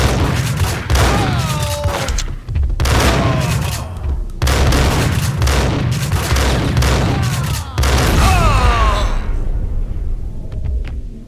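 Loud, dense gunfire from the Max Payne video game fills four long volleys of rapid shots with booming low end and ricochet-like whines, then the sound drops away into near quiet at the end.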